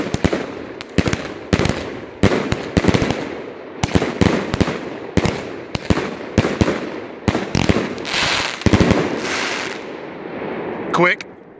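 A fireworks cake set off outdoors, firing a rapid series of sharp cracking bursts in uneven clusters, loud and close, ending in a final crackle followed by a brief voice.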